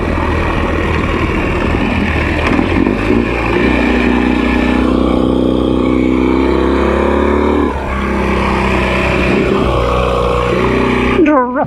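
Ural sidecar motorcycle drifting off-road in Utah's West Desert: a loud, close engine droning and revving continuously under wind rush, with a rider's voice heard over it.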